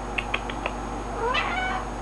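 A house cat gives several short meows in quick succession, then a longer, rising drawn-out meow, all close and moderately loud against a steady low background hum.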